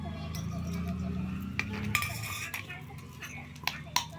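Plates and cutlery clinking at home while fish, potatoes and rice are served for a child, several light metallic taps and clinks at close range, with a low voice murmuring beneath.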